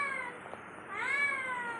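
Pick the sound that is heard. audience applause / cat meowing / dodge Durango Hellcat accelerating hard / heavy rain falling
cat meowing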